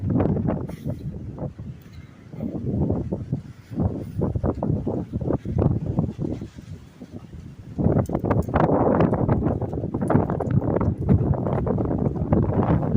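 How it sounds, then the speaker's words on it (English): Breezy spring morning wind outdoors beside a church, buffeting the microphone in loud rumbling gusts that rise and fall, stronger toward the end, with no voices. "Definitely a little breezy in this 9 a.m. hour on Sunday."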